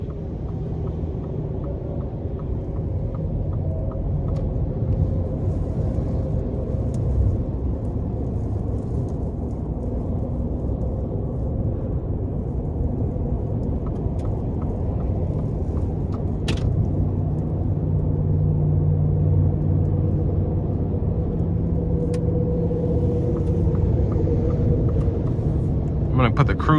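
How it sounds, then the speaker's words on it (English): A 2023 Ford F-150 Lightning XLT electric pickup with the standard battery drives along, giving a steady low road and tire rumble with no engine note, while a person talks throughout inside the cab. "you're not hearing an engine rev up, you're not hearing turbo spool or anything like that. It's just almost silent. All you can hear is just a small screech from the tires."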